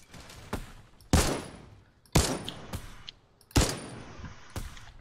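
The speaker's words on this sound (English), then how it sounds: "Oh god, they're shooting me." Bursts of automatic gunfire in a Fortnite match, four sharp loud volleys a second or so apart, each trailing off into a rattling tail, with faint background game noise between them.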